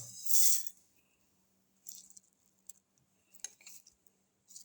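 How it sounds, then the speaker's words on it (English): Rice flakes, sugar and cardamom pods tipped into a grinder jar, heard as a loud rattling pour at the start followed by a few lighter clinks and taps, with no talking. "Put in the rice flakes and the sugar and the cardamom"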